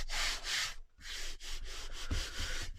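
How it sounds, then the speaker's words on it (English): Paper being rubbed down and pressed into the crease of a handmade no-sew junk journal, heard as close, soft, dry rubbing strokes with brief pauses between them. "Rub it down, press it into the crease a little bit,"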